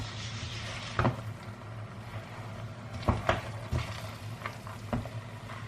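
Mussel börek filling being stirred as it fries in a pan, a steady low sizzle broken by a few sharp scraping knocks of the spoon against the pan, close and clear with no talking.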